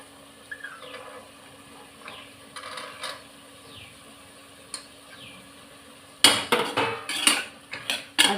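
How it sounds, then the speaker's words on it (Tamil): Chopped carrots and green peas tumble into a pot of sautéing vegetables for one pot coconut milk rice, a burst of clattering impacts and metal scrapes near the end after a quiet stretch. "இப்போ கட் பண்ணி வச்சுருக்க கேரட்டும் பச்சை பட்டாணி எல்லாத்தையும் ஒன்றா போட்டுக்கிடலாம்"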